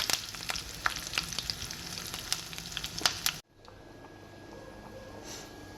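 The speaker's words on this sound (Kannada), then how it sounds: "ಇವಾಗ ಇದಕ್ಕೊಂದು ಒಗ್ಗರಣೆ ಹಾಕೋಣ." Curry leaves and asafoetida crackle and sizzle in hot oil for a tempering, loud spitting pops over a steady fry, then the sizzle stops abruptly, leaving faint background hiss.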